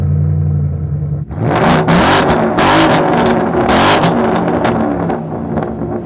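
A 2015 Ford Mustang GT with a Flowmaster Outlaw exhaust idles with a deep burble, then revs hard into a loud, raspy V8 roar that rises and falls over several seconds, close by, with no talking.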